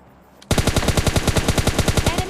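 Rapid automatic gunfire from a weapon in PUBG Lite, a burst of evenly spaced loud shots that starts abruptly and keeps a steady rhythm for about two seconds, with no talk over it.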